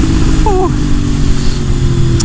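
A Yamaha MT-10 1000cc motorcycle is ridden with a continuous low engine drone mixed with heavy wind rumble, and a brief voice is heard partway through.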